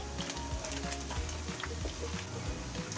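Okoy shrimp fritters with taro and cassava fry in oil, giving a soft, steady bubbling crackle with scattered pops, fairly quiet and without any voices.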